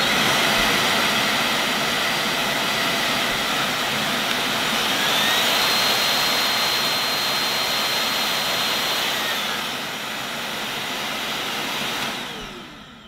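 A Bosch Unlimited Serie 6 Pro Animal cordless vacuum is switched on and runs as a steady, loud whining roar that holds for about twelve seconds, then powers down abruptly, with no talking over it.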